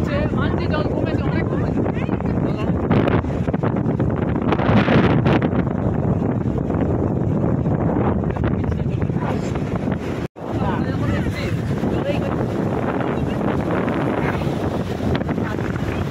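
Strong wind at the seashore buffets the microphone in a constant roar, with voices talking underneath and a brief dropout partway through.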